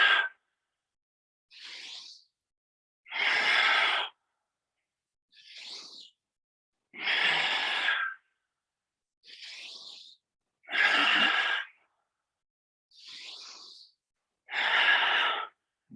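Slow, deep breathing during a yoga exercise, with long audible inhales and exhales alternating in a steady rhythm. Each breath is close and clear, separated by short silences.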